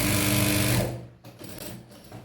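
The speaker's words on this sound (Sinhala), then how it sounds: "ඔන්න මම දැන් මහන්න හදන්නේ කියලා හිතලා මහන්න." A sewing machine stitches in a fast, loud, close whirring run that stops after under a second, leaving faint clicks and handling noise.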